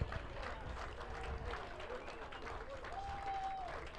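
Spectators at an amateur Australian football match clap a player as he comes off the field. The applause is faint and scattered and runs steadily throughout, with crowd murmur and a distant voice mixed in.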